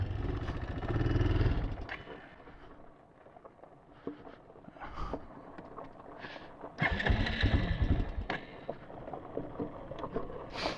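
Kawasaki Bayou 220 ATV engine bogging and struggling, a rough uneven rumble that surges, fades to near idle and swells again, heard fairly close outdoors with no talk.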